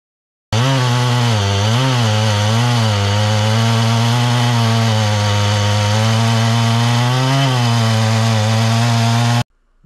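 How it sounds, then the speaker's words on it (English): A chainsaw on a Granberg Alaskan chainsaw mill cuts a log into lumber, its engine roaring loud and continuous for about nine seconds with slight pitch wavers as the chain bites the wood. "The chainsaw mill that I'm using is Granberg Alaskan sawmill."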